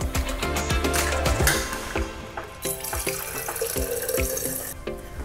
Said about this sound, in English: I'm gonna fill up my water bottle